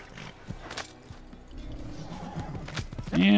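A horse in the video game Assassin's Creed whinnies and hooves clop at a moderate distance, with a loud, sharp neigh rising at the end over a steady background.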